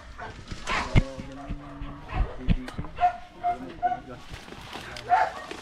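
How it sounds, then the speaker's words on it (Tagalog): A dog at a house with plants makes a few short barks and yips amid close talking and handling noises, the calls scattered and fairly faint. "Yung aso po magmaingay."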